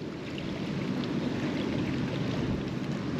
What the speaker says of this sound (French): Là, il y a du vent, on entend le cliquetis, ça fait des vagues